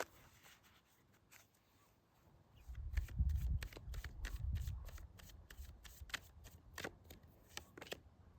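Tarot cards are shuffled by hand, with soft rubbing that swells in the middle followed by a quick run of crisp card flicks, close and quiet, with no voices.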